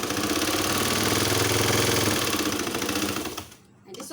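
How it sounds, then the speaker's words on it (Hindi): A sewing machine rattles steadily at close range while double-stitching the hem of a child's trouser, then cuts off briefly near the end before restarting. "जहाँ पे पांचा है वहाँ पे 2 दफ़ा सिलाई कर लें, डबल टाका लगा लें"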